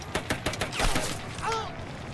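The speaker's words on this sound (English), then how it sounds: "U.S. Army Corporal Alvin York and his fellow soldiers are pinned down from heavy German fire" Rapid bursts of gunfire crack in a World War I battle reenactment, a quick series of sharp reports followed by a rumbling echo and a whistling, creaking tone near the end.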